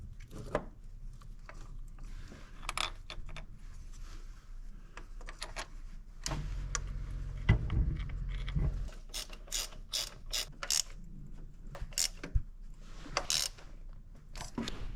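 A ratchet wrench clicks in repeated quick bursts while a power steering pump is reinstalled on a Jeep CJ, with metallic clanks and handling noises between strokes, close and moderately loud, no talking.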